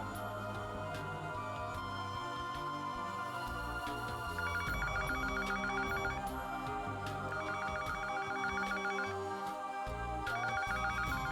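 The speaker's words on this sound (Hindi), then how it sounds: "फोन बज रहा है बाहर।" A telephone rings in repeated electronic trills, somewhat distant, over a busy background with music-like tones.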